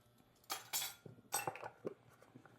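Glass spice jars are handled in a kitchen, giving a few close, quiet clinks and taps in short irregular bursts.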